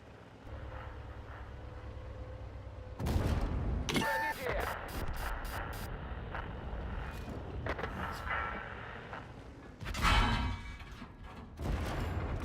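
A sharp, loud cannon blast from a tank in a video game, with a second heavy shot later on, set against a constant engine rumble and battle noise while a voice talks over it.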